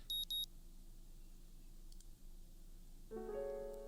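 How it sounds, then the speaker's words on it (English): An alarm clock in the video game Katawa Shoujo gives two short electronic beeps, faint over a low steady hum, followed by a soft musical tone near the end. "my alarm's going off"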